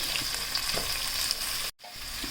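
Finely chopped onions fry in oil in a pan for an ash gourd and chicken curry, giving a steady close sizzle with a few stirring scrapes. The sizzle breaks off briefly near the end and then resumes.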